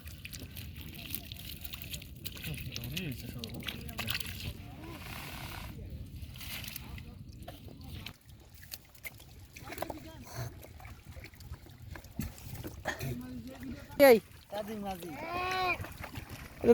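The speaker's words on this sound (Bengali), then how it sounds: "তানজিল মাঝি কিভাবে বৈঠা পাইতেছে দেখতেছেন আপনারা" A small wooden boat is paddled through a river during shrimp fishing, with soft water sloshes and splashes of the paddle strokes, a sharper splash near the end, under a voice talking.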